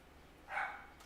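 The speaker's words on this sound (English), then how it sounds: "Bubba, why are you barking?" A single dog's bark or yip, fairly faint and short, rising over quiet room background.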